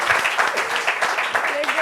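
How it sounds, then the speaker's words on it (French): A talk-show studio audience applauds the guests who contributed, a close, busy patter of clapping with a voice briefly rising over it near the end. "Applaudissements pour tous ceux qui ont fait les interventions."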